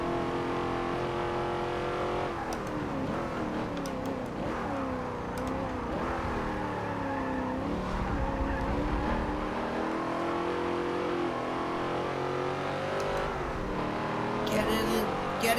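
A Chevrolet Camaro race car engine in Forza Motorsport 7 revs and drones steadily with shifting pitch through a race, loud and continuous, with a brief higher burst near the end.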